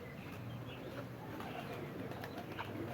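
Pigeons coo softly on a rooftop loft, several low, repeated calls rising over a faint, steady background hiss, with no talk.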